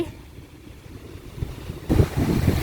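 Strong coastal wind blows at a beach resort at Ban Krut, Prachuap Khiri Khan, buffeting the microphone with a steady rushing noise that swells into louder gusts near the end. No voices are heard.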